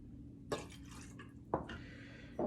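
Cranberry juice is poured into a glass for a whiskey cocktail, heard as a few faint, short splashing bursts with quiet pauses between them.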